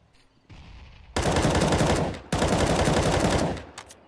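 Automatic rifle fire in a Counter-Strike: Global Offensive match shot through a smoke cloud, two long loud rapid bursts separated by a short gap, close and sharp, trailing off into a few scattered clicks.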